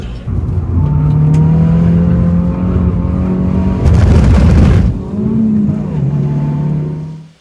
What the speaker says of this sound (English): Here's these fast Porsches that the Marshal was talking about.